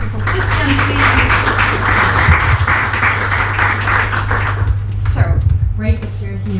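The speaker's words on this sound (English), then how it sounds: "And applause also for Christian, please" An audience at an AI economics conference stage in Hamburg applauds a panel guest, a steady wash of clapping for about five seconds that then fades while a host's voice talks over it.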